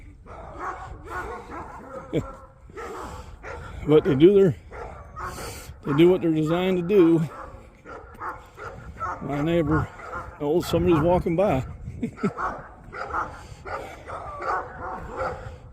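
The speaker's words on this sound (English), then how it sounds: "It's a shame because they are good dogs. But boy, do they make a racket." Several male dogs bark, yip and whimper in a noisy scuffle outdoors, repeated loud barking bursts mixed with someone talking over them during a walk.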